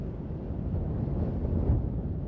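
Wind blows steadily across a microphone outdoors in the Arizona desert, a low continuous rumbling roar with gentle swells and no other sounds.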